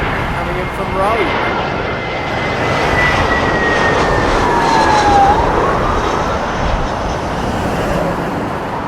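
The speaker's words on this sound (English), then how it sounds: "we have British Airways A320 coming in from Rome" A British Airways Airbus A320 jet lands at London Heathrow, arriving from Rome, its broad engine roar steady and fairly close, swelling slightly mid-pass over continuous background noise.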